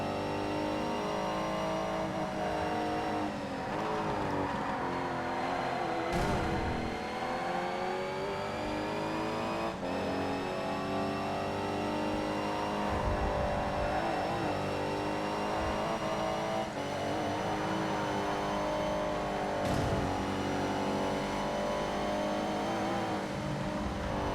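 Race car engines in the video game ToCA Race Driver 3 whine and rev continuously during a GT race, pitch rising and falling through gear changes, with occasional sharp bursts; steady and prominent throughout.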